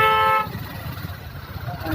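Car horn honking in road traffic on a rainy day in Delhi, one sustained toot opening the clip, followed by a dense rumble of traffic with voices talking over it.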